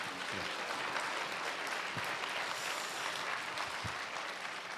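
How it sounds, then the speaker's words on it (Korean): An audience at a book concert in Sejong, South Korea, applauds steadily, a dense wash of many hands clapping at moderate volume without pause, with no speech on top. "예, 박수 한번 부탁드립니다."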